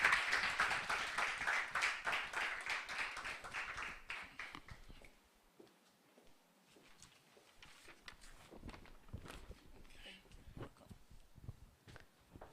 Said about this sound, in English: So let's give her a very big round of applause.